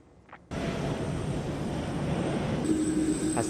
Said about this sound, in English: As the plane parked on the tarmac apron